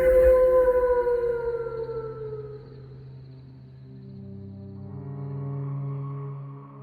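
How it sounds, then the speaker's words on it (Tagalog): A loud dog howl in an eerie village horror tale: a long, drawn-out wail that starts strong, slides down in pitch and fades, then swells again in a lower, mournful tone, heard alone. "Pinutol ng isang malakas na alulong ng aso"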